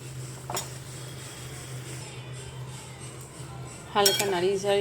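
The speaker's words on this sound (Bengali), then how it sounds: "এবার ভেজে রাখা ডিমগুলো দিয়ে দিচ্ছি, অল্প হালকা নাড়িয়ে চাড়িয়ে" A spoon clinks and scrapes against a pan as fried eggs are gently stirred into a potato curry, giving sparse metallic taps over a low background hum, followed by a brief voice near the end.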